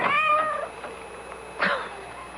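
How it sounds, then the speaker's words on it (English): A cat meows outside a door in an old-time radio mystery drama, with one long drawn-out cry followed by two shorter meows, fairly close and clear. "That cursed cat."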